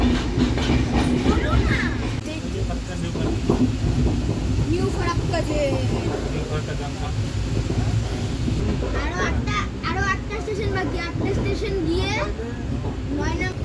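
Inside a passenger train pulling away from Farakka station, a continuous loud rumble and rhythmic clickety-clack of wheels carry on under wind buffeting, with people talking throughout.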